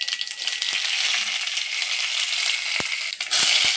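Urad dal and fenugreek seeds fry with popped mustard seeds in hot oil, giving a steady bright sizzle with a few sharp crackles and pops near the end, close and alone.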